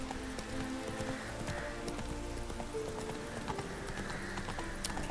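A horse gallops in The Witcher 3 video game, with steady, quick clip-clopping hoofbeats running throughout at a fairly faint level and no voices.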